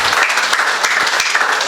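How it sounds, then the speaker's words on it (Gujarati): An audience at an N.A.B district branch conference in 2024 breaks into loud, dense applause, a short burst of many hands clapping close by with no speech. "જોરદાર તાળીઓથી વધાવી લો"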